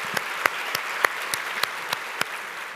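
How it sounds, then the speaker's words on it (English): Sparse applause from a small audience at a women of color in golf panel, a steady patter of claps with a few sharper individual claps standing out, moderately distant. "can I have one more round of applause for Cassie,"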